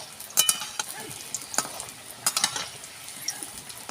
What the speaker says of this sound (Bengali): আমি আলুগুলো লাল লাল করে ভেজে নিচ্ছি।